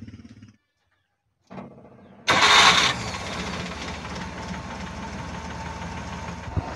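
A multicab engine that stalls in rain or floods cranks briefly, then roars to life loudly and settles into a rough, steady idle, close by with no talking.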